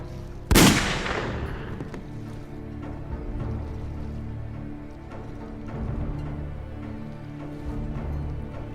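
A single loud gunshot cracks out near the start of a scene in a 2007 daytime TV soap drama, followed by quiet room tone and faint background music with no talk.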